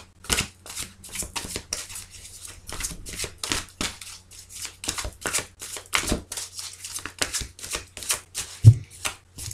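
A deck of tarot cards being shuffled by hand, repeated riffling bursts in quick irregular rhythm, close and crisp, with a low steady hum beneath and no talking.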